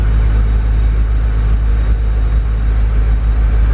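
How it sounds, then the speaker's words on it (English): A built Honda K24 turbo engine in an EP3 Civic idles with a steady, loud low rumble that holds evenly throughout, with no talking. "Now it's idling better at least."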